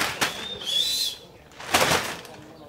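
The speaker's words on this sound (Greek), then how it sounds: "Βγάζουν και φτερουγισιά, παρόλο που φυσάει πάρα πολύ" Pigeons fluttering and flapping their wings outdoors in strong wind, two bursts of wing flaps a second or so apart over gusty wind noise, with a brief thin whistle-like tone between them.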